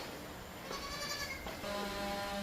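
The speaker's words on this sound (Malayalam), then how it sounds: "കാതിൽ കമ്മലിട്ട കടുക്കനിട്ടൊരു പാലാട് ഉണ്ടാ" A dairy nanny goat that has recently kidded bleats a few times in wavering calls, close by, over steady outdoor farmyard background noise.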